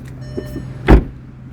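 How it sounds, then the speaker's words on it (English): The door of a 2023 Kia Rio LX shuts with a single solid, close thump, preceded by faint latch and handle clicks in a quiet cabin. "let's take a listen to the sound of the closing door"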